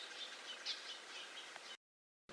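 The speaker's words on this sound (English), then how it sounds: "Back to forests and birds." Forest ambience with small birds giving a few faint, high chirps over a soft, constant background hiss. The sound cuts to silence briefly near the end before resuming.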